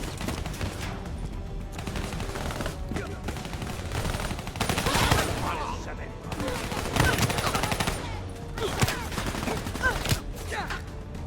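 Rapid automatic gunfire and bursts of shooting fill a Call of Duty Black Ops III match, dense and continuous for about eleven seconds with a few louder peaks, and voices talk over the battle.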